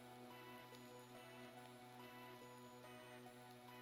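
Steady rain falls in a modded Minecraft world, a continuous soft hiss of drops that holds at an even level for the whole stretch, with faint sustained tones running underneath and no voices.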